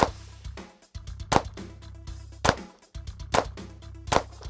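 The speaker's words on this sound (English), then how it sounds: "then if I shoot continuous shots" Repeated sharp rifle shots fired in a steady series, five or six distinct cracks roughly evenly spaced, close and loud with brief decays between them.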